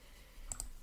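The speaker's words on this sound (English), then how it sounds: "So I'm just clicking around, checking." A computer mouse gives two quick, close clicks in a row against a quiet room.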